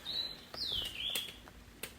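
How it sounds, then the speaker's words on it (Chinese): A small bird sings from a treetop beside the hemlock forest trail at Taipingshan on a humid day, giving clear high whistled notes, one long gliding phrase, then a few short chirps nearby. "就刚刚那一只小鸟， 很好听"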